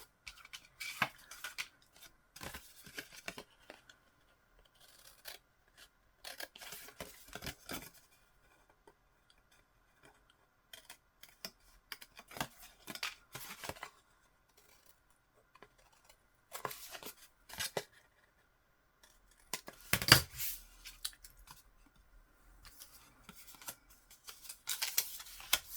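Scissors cutting, a series of close, crisp snips in short bursts separated by quiet pauses, with no voice heard.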